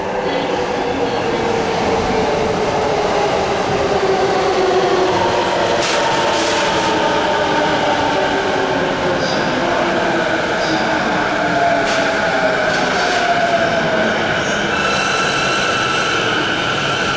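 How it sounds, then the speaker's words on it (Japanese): A JR Keihin-Tohoku Line train pulls into a platform at Shinagawa Station, its motor whine and wheel noise rising and falling for a long stretch, with faint platform announcements and clanks over the rumble. "まもなく4番線に電車が参ります。"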